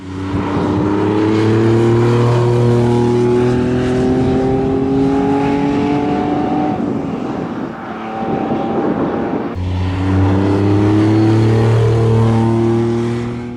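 Ferrari Dino 246 GT with a 2.4-liter V6 pulls through rising revs twice, loud and close, each climb ending in a brief drop before the engine winds up again.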